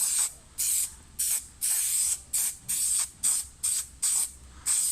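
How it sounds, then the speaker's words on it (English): Blue contact adhesive is sprayed for a laminate worktop in a campervan build, in nine or ten short hissing bursts of about half a second each, evenly spaced with brief pauses, close and loud, with no voices. "so I'll spray the blue stuff on, stick a tack"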